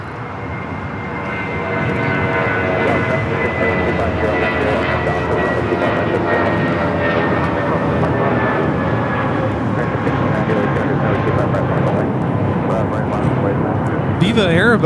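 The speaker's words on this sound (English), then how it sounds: "Viva Airbus, Flight 511, taking off to Guadalajara on the A320." A Viva Aerobus Airbus A320 takes off from LAX on its way to Guadalajara, its jet engines giving a loud, sustained roar that builds and holds, with voices talking over it.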